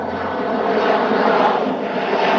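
An airplane sound effect plays during a podcast: a loud, steady droning engine roar lasting about two seconds, heard alone without talk.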